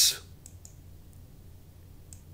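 A computer mouse click during spreadsheet work: one sharp, close click right at the start, followed by a few faint ticks over a quiet, low background hum.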